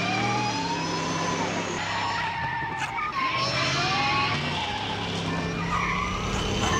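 A car in the Back to the Future video game drives and skids, a loud, continuous engine drone with sustained tire screeching and shifting pitch throughout.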